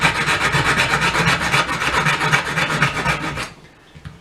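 Hacksaw blade sawing through a fishing rod reel seat in fast, steady back-and-forth rasping strokes, close and loud, stopping abruptly near the end with no talking.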